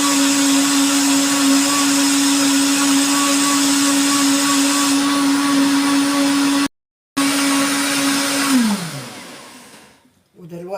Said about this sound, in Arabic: ودلوقتي ضربنا كل السوائل مع بعض، الحاجات الجميلة الحلوة دي. هنشيل بقى الخلاط